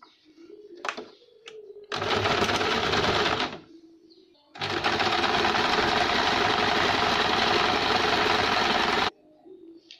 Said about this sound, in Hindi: अब हम नीचे बॉटम की ओर फोल्ड करके सिलाई देंगे